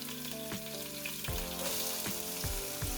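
Carrots, onion and celery sizzling loudly in a soup pot for split pea soup, a bright continuous hiss with repeated knocks and scrapes of stirring, close up and with no voices.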